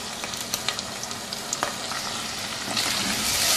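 Chicken and yogurt sizzle in a pan while being stirred, with a spoon scraping in a steady run of soft taps. The frying hiss grows louder near the end, and nobody speaks.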